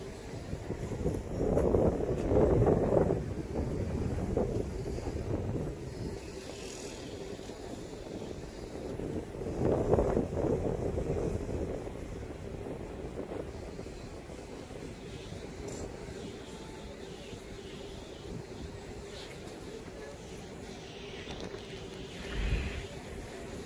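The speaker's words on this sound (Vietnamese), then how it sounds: "Này gió khá là lạnh, nó sẽ rơi vào khoảng 22 đến 25 độ." Cool wind gusting across a third-floor balcony of a detached lakeside villa, loud buffeting swells around the start and middle then settling into a steady rush, alone with no talk.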